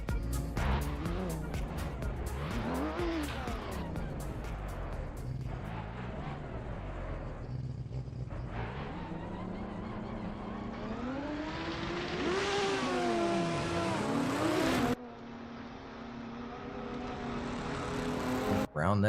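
Drift cars at a drift competition in Pittsburgh launch off the line and slide through the course. Engines rise and fall in pitch as the cars rev and accelerate, close and loud, with an announcer talking over them.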